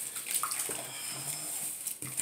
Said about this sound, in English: Turn off this water because we don't want to be wasting water.